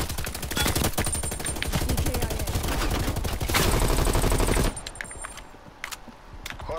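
Rapid automatic gunfire in Call of Duty: Black Ops Cold War multiplayer, loud, dense sustained bursts for several seconds that then cut off, leaving quieter scattered game sounds.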